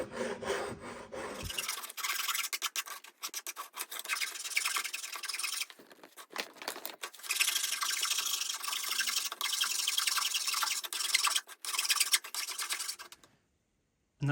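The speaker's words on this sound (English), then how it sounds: "I'm just going to go around with a file to smooth off any bumps." Hand file working along the edges of a tortoiseshell celluloid pickguard for a Telecaster Thinline-style guitar, a steady close rasping scrape in repeated strokes with short pauses between passes, no talking.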